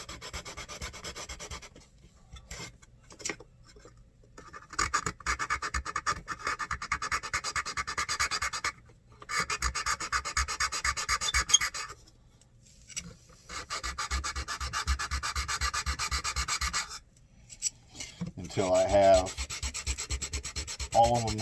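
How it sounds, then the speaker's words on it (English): Sandpaper wrapped on the end of a stick rubs back and forth in a wing spar slot of a Hobby Lobby Telemaster 66 RC plane build, making long close raspy scraping strokes with brief pauses between bursts. "I got a little piece of the material that fits into this slot here, put some sandpaper on the end of it"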